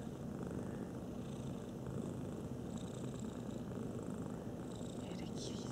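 Steady low purring from a cat close by, continuous and soft, with a faint murmur of talk underneath.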